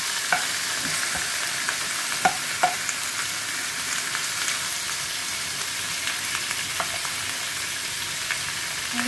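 Pork for hamonado browns in a pan, giving a loud, steady, close-up sizzle with occasional scraping clicks of stirring and no talking.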